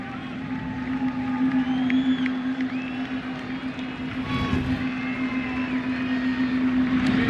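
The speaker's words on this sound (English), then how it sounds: "The crowd here at the Jake, very subdued" A subdued baseball crowd at Jacobs Field in Cleveland during a 2001 playoff game between the Mariners and Indians, a steady low murmur of the stands with a constant hum and scattered faint calls throughout.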